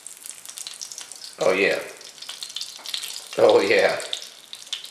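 Turkey wings hit hot olive oil in a pan, producing two loud bursts of sizzling and spattering over a quieter background hiss, with a brief spoken exclamation.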